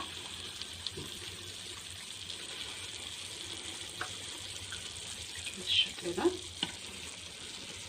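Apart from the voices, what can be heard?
syrup poured onto hot basbousa fresh from the oven, sizzling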